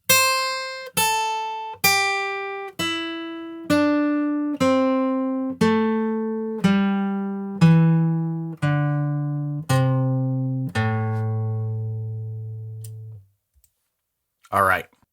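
A guitar plays a scale downward one note at a time, about a dozen evenly spaced plucked notes descending in pitch, then a brief scrape at the end.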